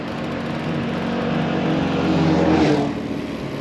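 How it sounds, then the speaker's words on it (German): A quad bike on a quiet rural road in Czechia buzzes up from a distance, its engine drone swelling to a peak as it nears and then easing away, moderately loud over steady road hiss. "Da hinten kommt jetzt mal ein Quad"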